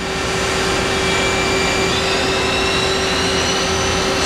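The milling spindle of a Mazak Integrex 200Y runs at 4,000 rpm with a loud, steady whine and a constant tone over broad machine noise. There is no talking.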